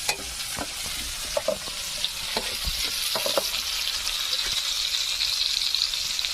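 Wild vegetable curry with tomato sizzles and fries steadily in a pan, a continuous hiss with occasional stirring clinks, close and moderately loud, no talking.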